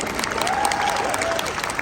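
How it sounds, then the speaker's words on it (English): A panel audience at a monster-makeup convention breaks into a short, dense burst of clapping with faint cheering mixed in, heard only briefly. "let's give a huge applause to Lois Burwell and to Deborah"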